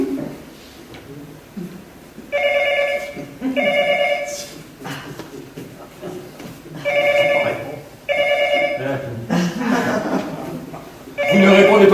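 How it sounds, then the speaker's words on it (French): Old-style telephone bell ringing in repeated bursts, a call from someone who has dialled the wrong number, loud and near, with people talking in between the rings. "c'est la sonnerie de quelqu'un qui se trompe"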